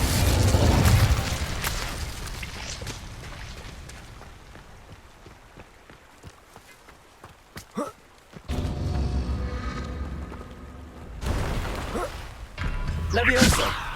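An Incendio fire spell in Hogwarts Legacy erupts in loud fiery bursts and whooshing blasts, with rumbling roars between them and a voice speaking at times.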